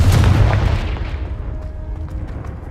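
A Confringo fire spell explodes in Hogwarts Legacy, a heavy booming blast with a deep low rumble that decays over a couple of seconds into a faint tail.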